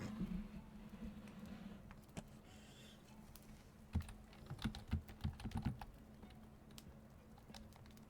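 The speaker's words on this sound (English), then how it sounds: "He's typing in announcements." Someone types on a computer keyboard nearby at a quiet level, with irregular clicking keystrokes. A denser cluster of clicks comes toward the end over a low steady hum, and nobody speaks.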